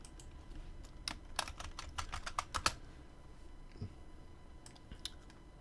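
Quick bursts of typing on a computer keyboard while coding, close and crisp keystrokes in a fast cluster then a few scattered taps, with no talk.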